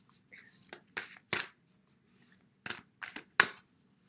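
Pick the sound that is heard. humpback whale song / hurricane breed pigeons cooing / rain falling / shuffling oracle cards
shuffling oracle cards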